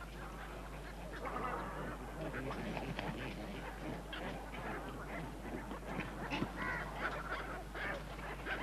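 Water birds on an artificial lake near Barakpur honk and quack in a busy, overlapping flock chorus. The calls are steady throughout, over a low constant hum.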